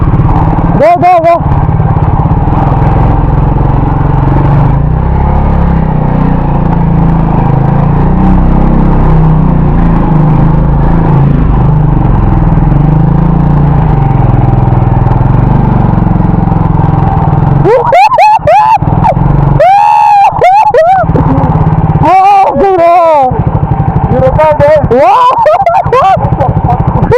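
Motorcycle engine running steadily on a ride up into the Ooty hills, a constant loud drone with wind rush throughout, and people briefly talking over it near the end.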